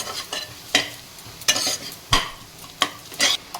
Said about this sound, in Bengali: মশলাটা একটু ভাজা ভাজা হবে এর ভিতরে কেননা এখন আমি আর কিছু দেব না মশলাটা ভাজা ভাজা হবে